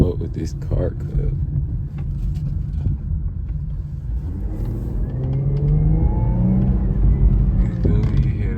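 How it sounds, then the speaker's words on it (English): A 2019 Infiniti Q50 3.0T V6 revs from inside the car, a steady engine rumble rising into a whining, climbing drone over the second half while people talk over it. "You hear that V6?"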